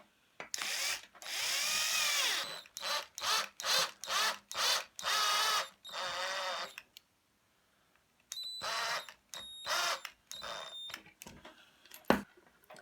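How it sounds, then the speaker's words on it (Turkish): A cordless drill driving screws whirs in a series of short bursts, speeding up and stopping repeatedly, with brief pauses and small clicks between runs. "Ben şarjlı matkap ile sıkıştıracağım."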